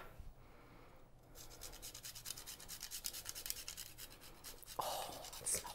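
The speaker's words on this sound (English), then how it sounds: "we're just gonna grate some fresh nutmeg over these" Fresh whole nutmeg rasped against a grater over eggnog cupcakes, a soft, steady scratching that runs quietly and continuously with no talking.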